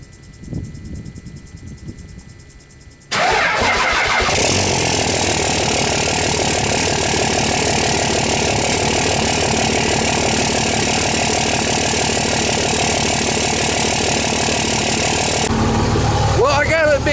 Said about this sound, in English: let's get a little cold start in the Cummins to see if she likes this cold weather